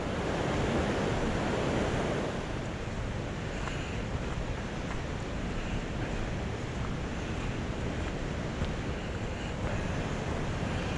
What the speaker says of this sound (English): All you can hear is a roaring of the river.